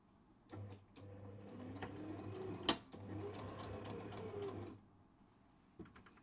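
A sewing machine back stitches and sews a seam on a beginner kimono jacket, running in one steady stretch of about four seconds with a brief pause and a sharp click partway through, close and alone.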